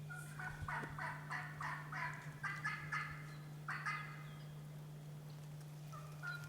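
A wild turkey gobbles in response to a mouth call during a spring hunt, a rolling series of gobbles at middle distance over a steady low hum, then quiet.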